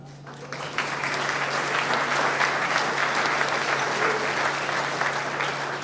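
Sustained applause fills a hall at the 2023 Cal Aggie Athletics Hall of Fame Ceremony, a dense, even roar of many clapping hands that continues throughout, with a steady low hum underneath.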